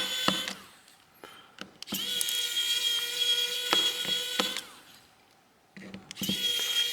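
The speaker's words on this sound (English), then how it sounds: "If you're using an electric screwdriver" An electric screwdriver backs screws out of a Motorola Edge 2024 (XT2405) phone during a teardown. Three close, whining motor bursts come in short, medium and long runs, with quiet pauses between them.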